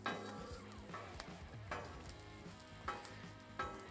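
Diced ham and vegetables sizzle on a Blackstone flat-top griddle, a steady crackling hiss broken by regular scraping strokes of a spatula about every second, close and fairly quiet.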